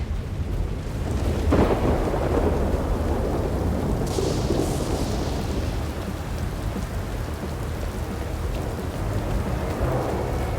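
A thunderstorm in the game South of Midnight: steady heavy rain hisses on surfaces throughout, with a low thunder rumble rolling beneath and a brighter burst of splashing partway through, continuous and close.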